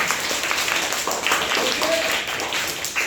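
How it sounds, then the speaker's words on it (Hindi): Students in a classroom applaud together, a dense, continuous wash of clapping at steady volume lasting about three seconds. "जोरदार ताली बजाइए"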